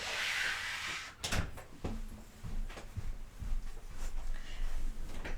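Door opening to let a cat out, heard as a few soft knocks and clunks of the door and latch, following an opening burst of hiss, with quiet room noise in between.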